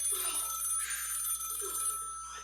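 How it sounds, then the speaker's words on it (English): A telephone rings on a theater stage during a play, faint and distant under a hissy room background with no clear talking. "Please, answer the phone."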